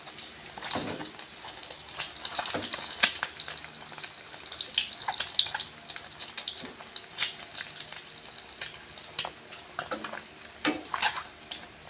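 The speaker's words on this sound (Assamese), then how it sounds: "সেয়া আমাৰ এতিয়া ডিমকেইটা ফ্ৰাই কৰি ল'ম" Eggs frying in a pan at a home kitchen, a continuous close sizzle and crackle with scattered spatters and pops throughout, no voices.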